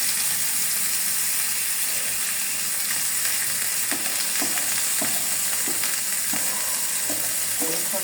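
Food frying in a wok with a steady, loud sizzle throughout, punctuated by repeated scraping and clattering strokes of a spatula toward the end.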